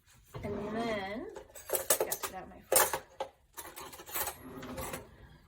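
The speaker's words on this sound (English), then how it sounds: "I'll stir these together" A spoon stirs dry playdough ingredients in a bowl, giving a few bursts of scraping and clinking against the bowl, while a person talks over parts of it.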